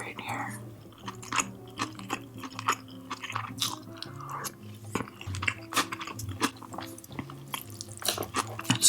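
Close, wet chewing and soft crunching of Indian food in a mukbang, with irregular bites and squishy mouth sounds repeating throughout, quiet and intimate.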